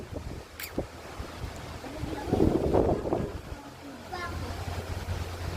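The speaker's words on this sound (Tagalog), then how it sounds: "Kita niyo yung hangin, ang lakas." Strong typhoon wind roars and gusts across the microphone in uneven bursts, with a voice speaking faintly underneath.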